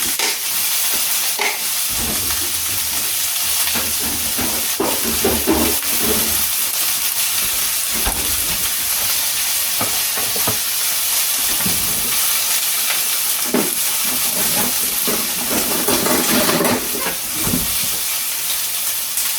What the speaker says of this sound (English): So put the leeks in.